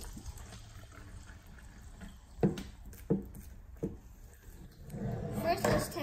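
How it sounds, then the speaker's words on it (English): Sparkling water poured into a glass, with a few sharp clinks early on and a steadier gush and fizz building near the end, fairly quiet and close. "Let's pour some water in."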